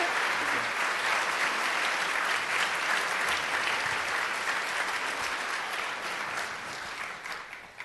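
A crowd at the 2018 Louisiana Young Heroes awards ceremony claps in a dense, sustained round of applause that holds steady and then tapers off near the end.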